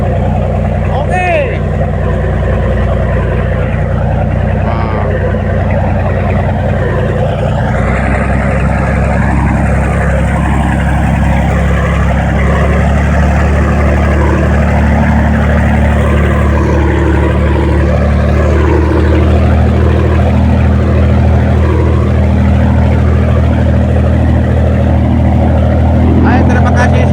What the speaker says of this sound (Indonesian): itu tandanya kalau naik suaranya berarti kelajuan kapal sudah dimaksimalkan